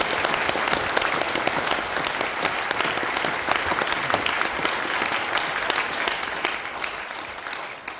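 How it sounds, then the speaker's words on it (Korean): A church congregation at an Easter service giving God a warm round of applause, many hands clapping in a dense, steady roar that holds for several seconds before tapering slightly at the end. "뜨겁게 우리 하나님께 영광의 박수 올리겠습니다"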